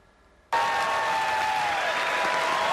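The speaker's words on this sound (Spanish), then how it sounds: "Benjamín Netanyahu fue recibido con aplausos de pie para su primer discurso en el Congreso de Estados Unidos" A standing ovation in the US Congress for Benjamin Netanyahu's address bursts in abruptly after a moment of quiet, then holds as dense, loud, sustained clapping from a large audience.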